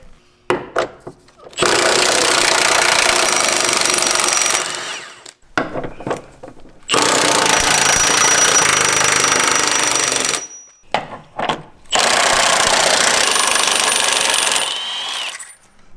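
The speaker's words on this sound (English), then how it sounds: "Take my impact wrench, 18mm socket." An impact wrench with an 18mm socket removes body mount bolts beneath a Jeep JL Wrangler in three loud, sustained hammering bursts separated by short pauses and clicks.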